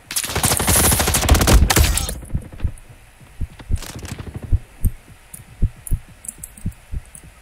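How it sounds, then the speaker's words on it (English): Heartbeat sound effect in the Roblox shooter Frontlines: a loud burst of gunfire gives way to a muffled, isolated stretch of low thumping pulses in a steady rhythm. "I remember hearing like the heartbeat sound effect."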